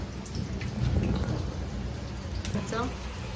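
Outdoor rain falls steadily with patters and drips near a cooking area where potatoes fry in a wok, a continuous wash of sound with a voice talking over it.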